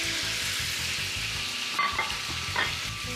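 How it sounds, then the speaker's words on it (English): Swordfish fries in olive oil in a hot pan, a close steady sizzle with a few stirring scrapes and clinks, no voices. "let's add the swordfish right in there"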